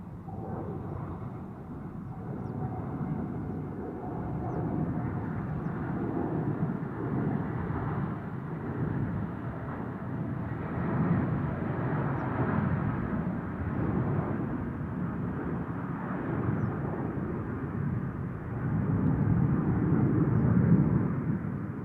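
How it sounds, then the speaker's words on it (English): Vietnam Airlines Airbus A350 departing from Amsterdam Schiphol's Polderbaan, a broad, distant jet roar that rumbles steadily throughout and swells toward the end, with no voices. "we're waiting on the Vietnam A350, the first departure for him"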